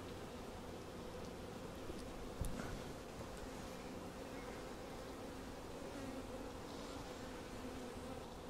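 Honeybees drone steadily at an open beehive, a dense continuous buzz from many insects throughout, faint and even with a brief rustle partway.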